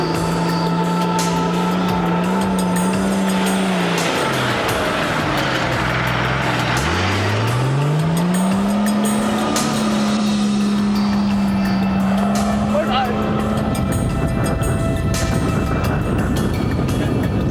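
A Toyota rally car grinds through desert sand during the 1993 Paris-Dakar rally, its engine loud and close with a strained hum that dips, falls away, then climbs again as it labors through the sand, wind and rumble underneath.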